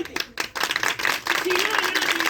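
Applause rises from a congregation at an evangelical gathering, starting in scattered bursts and then swelling into steady clapping under a raised voice that carries through it.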